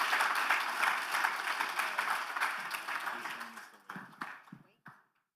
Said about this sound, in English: Everybody, please give these gentlemen a round of applause.